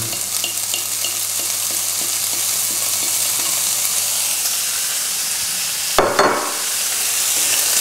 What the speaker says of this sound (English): So I've been cooking the bacon for a couple of minutes.